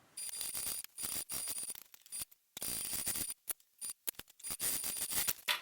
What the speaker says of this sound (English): I'm going to start sewing at the bottom.